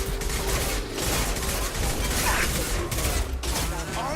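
Gunfire aimed at hostile mechs in Mass Effect 2: sustained rapid weapon fire with mechanical clanks and rattles, loud and busy throughout amid battle noise, with some voice underneath.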